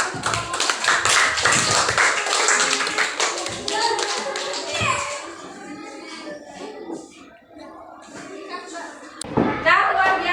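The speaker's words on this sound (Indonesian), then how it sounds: "Ya, tepuk tangan untuk kamu." Indonesian classroom or seminar audience applauding a presenter, brisk clapping at the start that thins out, then scattered taps and a sharp knock, with voices talking throughout.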